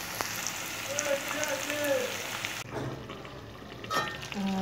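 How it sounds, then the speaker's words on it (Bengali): Chicken for biryani sizzles and fries in a pan, a steady crackling hiss with light stirring scrapes and a few sharper taps, fairly close and with no talk over it. "এখানে চিকেনটা অলমোস্ট কষানো হয়ে গেছে, মানে বিরিয়ানির জন্য যে চিকেনটা দরকার সেটা হয়ে গেছে।"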